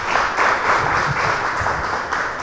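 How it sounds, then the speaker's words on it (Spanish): A church congregation claps together in praise during a Spanish-language sermon, a full, even burst of applause lasting a couple of seconds with no voices over it. "Dale un aplauso al Señor."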